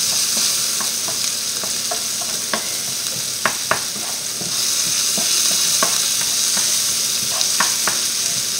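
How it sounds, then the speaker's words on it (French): Garlic, onion and shallot sautéing in a pan with meat juices, a continuous close sizzle broken by irregular scraping clicks of a utensil stirring. "On fait revenir nos oignons"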